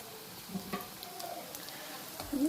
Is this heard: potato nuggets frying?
yes